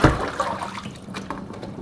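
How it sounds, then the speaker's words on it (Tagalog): Water pours into a cooking pot of herbs for a kidney remedy, a brief close splashing gush that runs steadily and then thins out toward the end. "lagyan na natin siya ng tubig"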